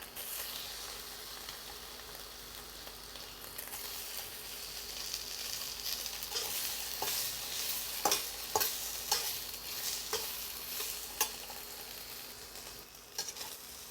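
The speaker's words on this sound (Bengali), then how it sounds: "আমি একটু বড় করে কাটা পনির একটু হালকা করে ভেজে নেব" Large-cut paneer pieces frying lightly in hot oil, a steady close sizzle with scattered sharper crackles and pops growing busier toward the end.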